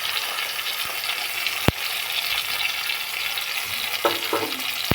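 Ginger and cumin paste sizzles steadily in hot oil with tomatoes for a vegetarian potato curry, a continuous close frying hiss broken by a sharp spoon knock and a few soft stirring scrapes.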